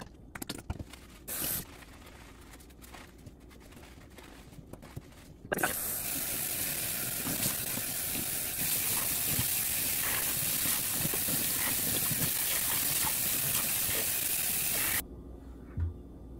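Tap water runs steadily with a loud hissing spray while a U-part wig is rinsed, starting abruptly after a few quiet seconds of handling noises and cutting off near the end.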